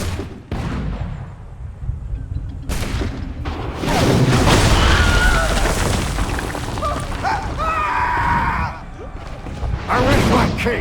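Heavy artillery fire from the Boston-era battle in Assassin's Creed III: deep booms and rumbling bursts of gunfire, loud and sustained, swelling and fading across the scene with brief voices between.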